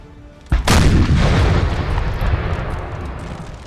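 A 6-pounder artillery cannon fires in the Napoleon Total War battle game, giving one sudden loud boom that rolls into a long, rumbling decay with no voices.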